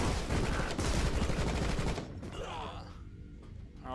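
In the video game RocketBirds Hard Boiled Chicken, a dense burst of rapid gunfire rattles loudly for about two seconds, then cuts to quieter game sounds and faint follow-up shots.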